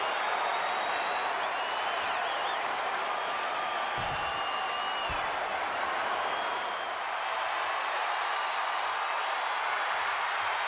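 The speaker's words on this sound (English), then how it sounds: "The crowd on their feet." A crowd roars and applauds continuously in a WWE SmackDown wrestling video game arena, a dense, steady wash of cheering with a couple of brief low thumps partway through.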